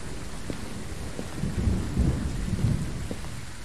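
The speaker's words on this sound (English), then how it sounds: "I think it's just the rain on the outside of the house" Steady rain beating on the outside of a house in the ghost-hunting game Phasmophobia, a constant hiss with low rumbling swells of thunder, heard alone without voices.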